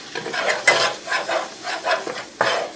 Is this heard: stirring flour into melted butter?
yes